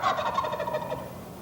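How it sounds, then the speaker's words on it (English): A big wild turkey tom in breeding season gobbles outdoors, one loud, rapid warbling burst that rings clearly and then fades over about a second. "It's really cool to see the steam backlit in the sunlight shoot out when that big boy gobbles."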